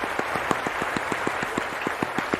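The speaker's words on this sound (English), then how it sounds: "A round of applause for MNC Gamers as they head off to bed." A round of applause during a Last Epoch Paladin game stream, steady rhythmic clapping at an even pace, moderately loud and close, with no talking.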